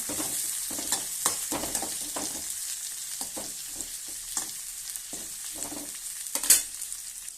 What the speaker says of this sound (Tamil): பாவைக்காய் போட்டு நல்லா வதக்குங்க